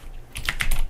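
Quick, crisp keystrokes on a computer keyboard while code is typed, a short irregular run of five or six clicks heard close and clear with no talk.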